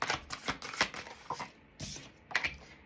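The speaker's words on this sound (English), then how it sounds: "Shuffling here for Leo." A deck of tarot cards is shuffled by hand in a quiet room, producing faint, quick bursts of riffling and flicking clicks in an irregular rhythm.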